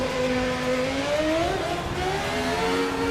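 A McLaren MP4 race car engine revving in Assetto Corsa, a steady loud whine climbing in pitch through the gears, continuous and up close with no talking.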